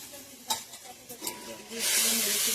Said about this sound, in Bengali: জল দিয়ে মশলাটা কষিয়ে নেবো, নয়তো মশলাটা ধরে যেতে পারে।